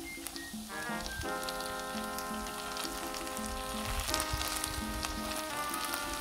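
Seafood paella sizzling steadily in its pan as the liquid cooks off and the rice begins to crisp, a loud continuous frying crackle with a sustained tonal ring running throughout.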